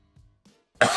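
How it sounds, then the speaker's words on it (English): A man gives a single sharp cough near the microphone after a brief quiet breath and throat sound, with a cold mentioned. "I've got a cough."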